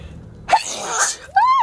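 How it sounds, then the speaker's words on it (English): A single person lets out a sudden, forceful sneeze. A brief rising vocal exclamation follows. "I have to sneeze again, but it won't come out."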